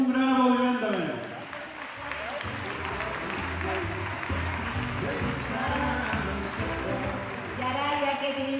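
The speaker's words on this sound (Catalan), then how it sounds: "La mascota, se mereix un gran aplaudiment també" A crowd at a sports awards gala applauds the mascot, with steady, dense clapping and cheering filling the hall alongside background music and a voice over a loudspeaker.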